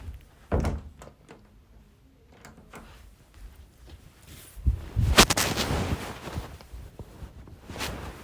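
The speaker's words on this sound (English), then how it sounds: "Let me close my door so that I need some privacy." A door being shut, a heavy low thunk early on and then a louder cluster of knocks and thuds a few seconds later, close and fairly loud, with no talking.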